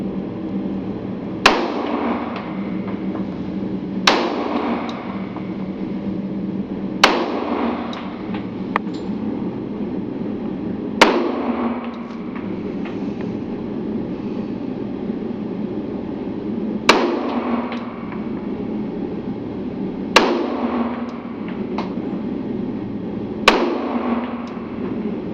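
A Springfield 1911 Loaded Operator pistol fires at a shooting range: about seven loud, sharp single shots spaced a few seconds apart, each with a short ringing echo, against steady background noise.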